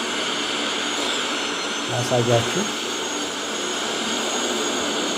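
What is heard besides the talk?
airplane jet taking off in Microsoft Flight Simulator video game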